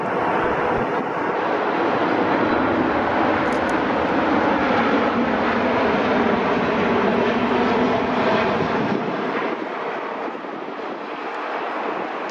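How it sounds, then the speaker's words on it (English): A United Boeing 737 MAX 8 airliner at Newark airport roars loudly and steadily as it passes, the broad engine noise fading slightly toward the end, no talking. "United 1395 from West Palm Beach is next in line, operated by yet another 737 MAX 8."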